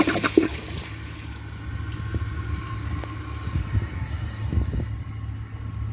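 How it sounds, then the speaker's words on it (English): Second flush of a Mansfield Pro-Fit toilet: a steady low rushing of water running through the bowl, fairly close and moderately loud, with a few faint clicks and splashes and no talking. "let's just see how it does on a second flush"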